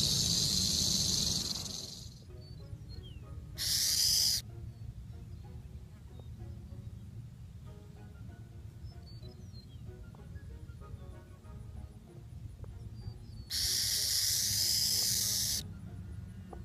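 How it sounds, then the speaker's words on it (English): A burrowing owl gives two sharp bursts of harsh, rasping hiss, like a rattlesnake's tail rattling, standing out loudly against a low, murmuring background. "By making a rattling hiss"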